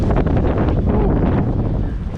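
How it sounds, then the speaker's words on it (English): Strong wind buffets the microphone continuously while kayak fishing on open water off New York City, a loud, steady roar with gusty swells that stays dense throughout. "Feel that wind, folks."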